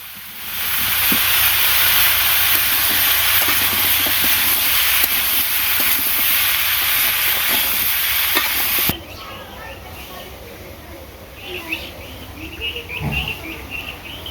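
Fish curry sautés in a pan, a loud steady sizzle and hiss with faint stirring scrapes that cuts off abruptly partway, leaving quieter kitchen clatter.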